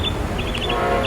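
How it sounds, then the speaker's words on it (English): Amtrak Silver Star Train 91 rushing past at speed, running late in hot Florida weather on the SunRail corridor near a rail yard; a steady, loud roar of rolling cars with faint high tonal squeals, no voices. "we had Amtrak's Silver Star Train 91 barreling down on us"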